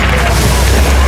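A tank blows up in Battlefield, a heavy continuous rumbling blast that stays loud and dense throughout with no pause.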